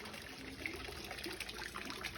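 Water flowing in a fountain in the Moorish-influenced courtyard of the Palacio de Mondragon, a soft continuous trickle with light splashing and bubbling, fairly faint and steady.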